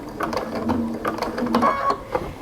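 Home sewing machine running in short bursts as it stitches and back-stitches through a folded towel to form an oven mitt, with a steady motor whir and needle clatter close by and no talk.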